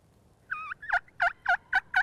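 A wild turkey gobbles in a quick burst after a short call, then repeats in a steady series of four or five loud, rattling gobbles.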